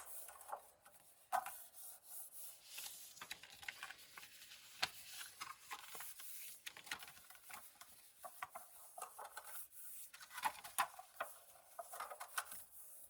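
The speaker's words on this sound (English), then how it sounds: "I'm going to go ahead and give it a little burnish first" A paper craft box being burnished produces soft, continuous rubbing and rasping strokes in an irregular rhythm, close and fairly quiet.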